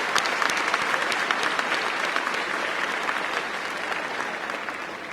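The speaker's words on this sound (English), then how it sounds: "Please join me one more time and show me your appreciation for the round of applause" A large audience at a high school graduation ceremony claps steadily and loudly, a dense and sustained round of applause that stays even throughout and fades slightly toward the end.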